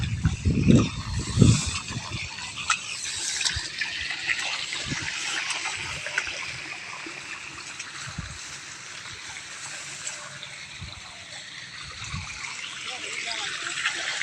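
Water is poured in a steady hissing stream, moderately close, with a few louder splashes and low thumps near the start.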